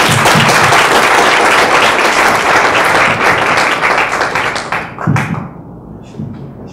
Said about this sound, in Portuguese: a gente faz a salva de palmas pro pessoal que da equipe